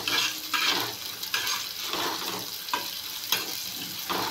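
Chopped onion fries in oil in a pan for a masala dosa potato filling, a steady loud sizzle with repeated scraping strokes of a spoon stirring against the pan.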